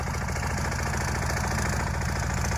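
A mini tractor engine running steadily, a loud, close, rhythmic low throb with a fast even knocking pulse and no pauses, heard alone without talk.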